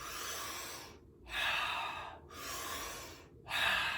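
Rapid, forceful mouth breathing during a tantra breathing exercise, three to four loud airy inhale-exhale cycles with short gaps between, close and isolated.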